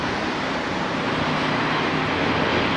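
A broad, steady jet roar fills the air as an airplane passes overhead at a distance in Wellington, constant and moderately loud with no voices.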